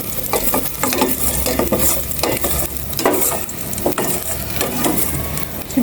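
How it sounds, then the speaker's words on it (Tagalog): Food is sautéed in a pan with a steady, close sizzle. Frequent utensil scrapes and clatter against the pan repeat throughout, with no voices. "Sige, gisa-gisa lang maigi."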